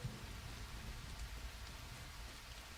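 Steady, dense rain hiss from a video game, constant and fairly loud with a low rumbling undertone and no voices.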